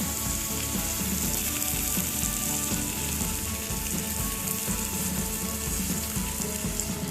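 Hot paneer gravy in a kadai sizzles and bubbles steadily as warm water, about a cup, is added, producing a continuous frying hiss with low bubbling underneath and no talking.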